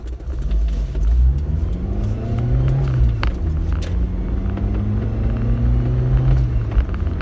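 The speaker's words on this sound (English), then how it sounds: "And that's like nearly redlining second gear and I'm doing 35 miles per hour." Engine of a 1991 Rover Metro revving hard toward redline in second gear, a loud, close, strained drone that climbs in pitch, dips and rises again while the car accelerates.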